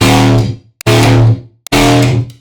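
Three heavy, distorted tearout stab synth hits built from two layered sounds, each a loud, harmonically dense burst that decays over about half a second before the next, with brief clicks in the gaps.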